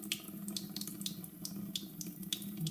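Water runs from a tap into a sink in a steady, close splashing stream, with a constant low gurgle under sharper spatters and no voices.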